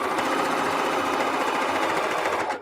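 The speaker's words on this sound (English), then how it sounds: "that's exactly where my needle is sewing" A sewing machine stitches a quilted jelly roll placemat, giving a loud, close, rapid mechanical whir with dense rhythmic needle clatter that runs steadily before stopping.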